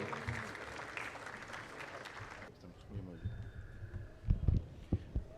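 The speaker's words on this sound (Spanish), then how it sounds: "les pido un fuerte voto de aplausos" An audience applauds a speaker at a university lecture event, moderate clapping for a couple of seconds that then cuts off, followed by faint room noise, a few thumps and a voice beginning to speak.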